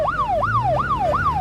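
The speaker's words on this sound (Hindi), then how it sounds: "बाबा, पुलिस की गाड़ी का आवाज।" Police car siren wailing in a fast repeating rise-and-fall cycle, four sweeps in quick succession, loud and close, alone over a low engine-like hum.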